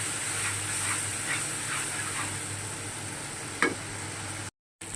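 Spice paste for a Bengali fish curry (macher jhal) frying in a pan, a steady hiss and sizzle with faint stirring scrapes, ending in a short gap of silence.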